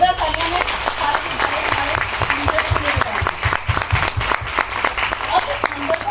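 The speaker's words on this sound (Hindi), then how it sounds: "एक बार जोरदार तालियां" An auditorium audience at a Modicare success event applauds loudly, a dense, sustained burst of clapping with a faint voice beneath.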